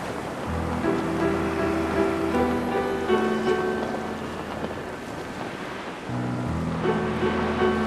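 Surf at a seaside archery range, a loud continuous wash of waves and wind rolling close by, with a low music-like drone running underneath.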